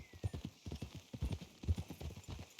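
Horse hooves clip-clop steadily along a road in the Red Dead Redemption 2 video game, a quiet continuous rhythmic trot of soft thuds with faint background ambience.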